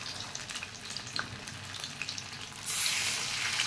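Food fries in a pan with a steady close sizzle and scattered pops, the hiss growing noticeably louder and denser for the last second or so.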